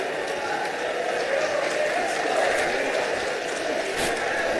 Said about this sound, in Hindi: शंकर प्रसाद जी से आग्रह करता हूं कि आप आए और आप सब जोरदार तालियों से स्वागत करें।